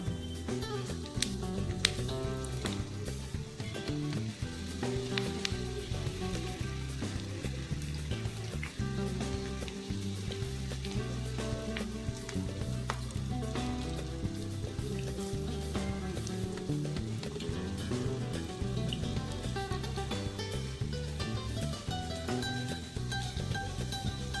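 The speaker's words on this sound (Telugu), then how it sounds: "వేడెక్కింది సో ఇంకా పకోడీ వేసేద్దాం" Onion pakoda frying in hot oil, a continuous bubbling sizzle with a steady crackle running unbroken throughout, moderately close, no voices.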